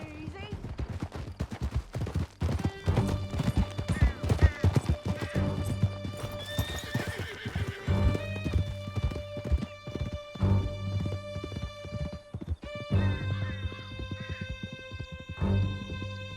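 Horse hooves galloping in Red Dead Redemption 2, a steady rapid clip-clop with a horse whinnying, gunfire crackling in the background, and game music underneath.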